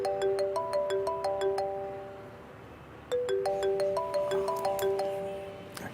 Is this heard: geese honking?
no